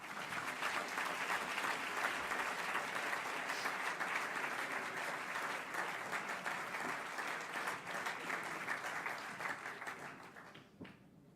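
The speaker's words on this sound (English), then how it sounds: "Ladies and gentlemen, a warm applause for Tristan Joseph Smith." Audience giving warm applause at an event, sustained dense clapping from a crowd that holds steady and then fades out near the end, without talk.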